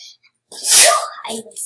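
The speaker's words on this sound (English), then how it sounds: "So I even sneezed because of it." One loud, sharp sneeze bursts out after a short quiet pause, followed by brief breathy sounds close to the microphone.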